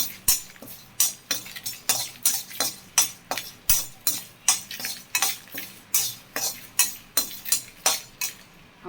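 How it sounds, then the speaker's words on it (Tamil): Mustard seeds popping in hot oil in a pan, a fast, irregular series of sharp crackling bursts, roughly two per second, close and fairly loud, with a soft frying hiss between them. "கடுகு நல்லா பொரியணும்"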